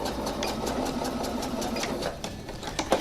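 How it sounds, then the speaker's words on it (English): A sewing machine back stitching the facing of a winter coat runs steadily and fairly loud close by, a continuous mechanical whir with a rapid needle rhythm and a few heavier clunks near the end. "when I get to the end of the facing, I'm going to do a back stitch."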